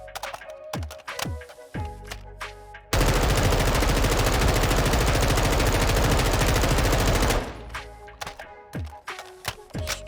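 Rifle fired at the firing range in Warzone 2, a few single shots and clicks, then a sustained loud burst of rapid automatic fire lasting several seconds, followed by more scattered single shots and handling clicks.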